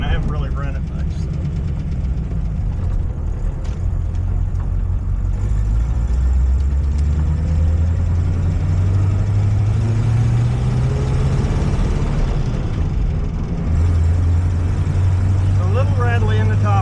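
A 1937 Buick Century engine runs continuously with a rattly top end, its low drone rising and falling as it revs, with someone talking over it.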